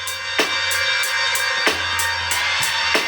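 Old school hip-hop track, a loud, dense beat with a steady bass line and sharp drum hits landing about every 0.3 seconds, playing alone with no talking.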